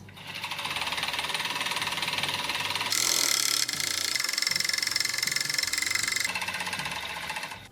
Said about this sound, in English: I'm going to serge the raw edges before washing and drying to discourage any more unraveling.